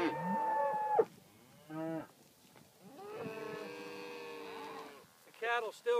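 Grass-fed cattle in snow moo loudly several times, long drawn-out low calls with short pauses between them, close by and with no one talking.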